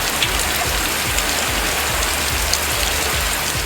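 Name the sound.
moderate rain falling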